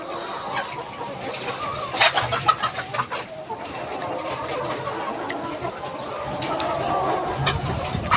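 Chickens in an Israeli-style poultry shed with fans and water misters, clucking and squawking in a steady busy chorus, with a burst of louder calls midway over constant fan and shed noise.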